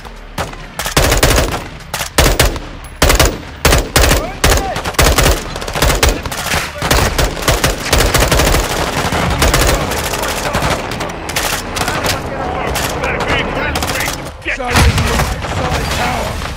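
Heavy cover fire in Call of Duty: Modern Warfare II during a prison break mission: sustained automatic gunfire with sharp repeated bursts and booming shots throughout, loud and dense, with voices speaking over the battle at times.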